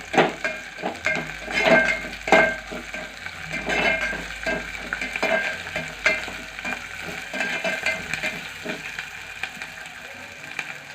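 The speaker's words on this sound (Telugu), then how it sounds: "కరివేపాకు వేసుకున్న తర్వాత కలబెట్టుకోవాలి ఒకసారి హై ఫ్లేమ్లో పెట్టుకొని" Curry leaves frying on high flame while being stirred, with a sizzle broken by irregular scraping strokes and clanks of a spatula against the pan, loud at first and then easing.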